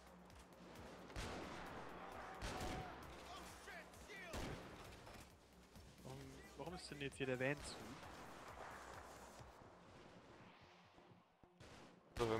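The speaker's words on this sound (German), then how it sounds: "Hörst du wohl auf zu snipen?" Gunshots in the heist game Payday 2 crack out in scattered loud bursts among background action, with a few sharp isolated reports standing out, while someone speaks over the shooting.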